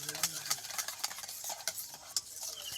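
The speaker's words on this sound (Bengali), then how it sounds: "এটা ক্রিমি ক্রিমি ভাব চলে আসা পর্যন্ত আমি এটাকে এইভাবে ভাজতে থাকবো।" A smooth paste is fried and stirred in a pan until creamy, giving a soft continuous sizzle with repeated quick spatula scrapes and light taps in an uneven rhythm, close by and with no voices.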